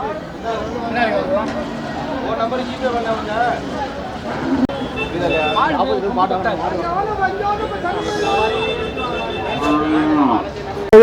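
Cattle low and moo repeatedly at a busy Manapparai livestock market, the calls rising and falling over a steady crowd murmur, with people talking close by throughout.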